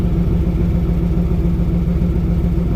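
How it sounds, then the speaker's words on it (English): Exhaust of a 1996 Chevrolet Camaro Z28 V8 with what appears to be a Flowmaster system, heard from behind the car as a loud, steady, deep idling rumble with no talk. "let you hear that exhaust."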